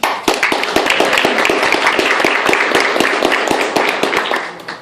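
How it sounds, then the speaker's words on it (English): A City Club audience gives a warm round of applause for its sponsors: loud, dense clapping from a crowd, with sharp, regular hand claps standing out close by throughout. "Please join me in a warm round of applause for all of them."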